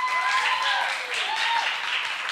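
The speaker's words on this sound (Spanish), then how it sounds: "Por favor, un fuerte aplauso para ellas." Studio audience applause at the Cerebritos game show gala, greeting the two judges, Alicia de Arroyo and Ilene Rivera, steady and moderately loud for a couple of seconds, with a voice briefly heard over it.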